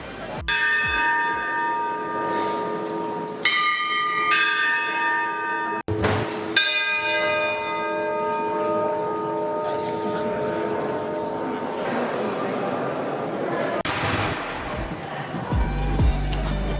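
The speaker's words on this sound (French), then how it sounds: "Chaque heure, un carillon s'anime et 2 automates en habits traditionnels viennent frapper la cloche." A carillon in Salamanca's Plaza Mayor rings as two automatons strike the bell, producing loud resonant strikes that decay slowly, with crowd murmur and voices in the background.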